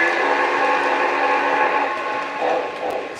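A steam train's tender rolls past in fading daylight, a loud steady rumble and rushing roar with a sustained whistle-like tone, close by and dominating, easing slightly near the end.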